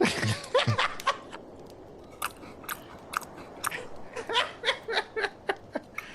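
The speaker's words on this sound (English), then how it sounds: "still chewing" Someone chewing food close by, a run of soft crunchy bites and mouth clicks spaced irregularly, with a brief burst of laughter and talk at the start.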